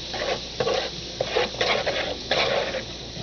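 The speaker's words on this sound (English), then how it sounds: "And you can see how much is actually boiling away as he stirs it." Liquid nitrogen ice cream being stirred in a bowl while the nitrogen boils off, a continuous hissing, bubbling sizzle with scraping strokes that swell in irregular bursts.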